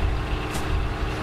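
Vehicle engine in the DayZ survival game, a steady low rumbling drone heard up close, with a brief hiss partway through and no talking.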